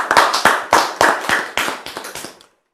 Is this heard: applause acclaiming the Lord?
yes